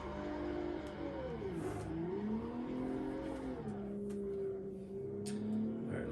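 A race car engine in the Assetto Corsa driving game revs and wails through a drift, its pitch rising and dipping as the throttle is feathered, with faint tire squeal and no voices.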